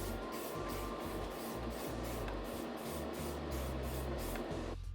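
Aerosol clear coat sprays in rapid repeated bursts onto small die-cast Matchbox model car wheels for a custom 1967 Volkswagen Beetle, a close, steady hiss pulsing in short rhythmic blasts.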